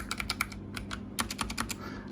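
Fingers type on a Logitech G915 low-profile gaming keyboard with tactile brown switches, a quick uneven patter of soft clicky keystrokes, close and clear, with a low hum underneath.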